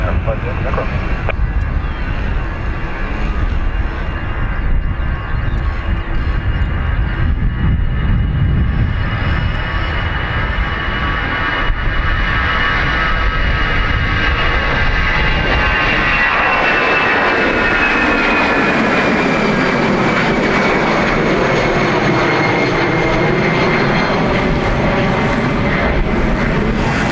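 A Ryanair jet airliner departs Dublin Airport from runway 28 right, its engines roaring loud and steady as it accelerates, then the low rumble thins into a sustained high whine as it climbs away.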